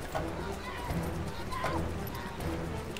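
Hooves pound in rapid clip-clop as a horse gallops in the Western video game Call of Juarez: Bound in Blood, set against constant game ambience and effects at steady loudness.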